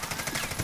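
Rapid, continuous bursts of automatic gunfire from a multiplayer video game session, steady and fairly loud with a fast repeating rhythm throughout the short moment.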